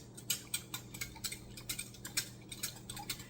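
A whisk stirs a homemade castor oil face wash with honey, tapping and clicking against the container in a quick, even rhythm, close and steady with no talking.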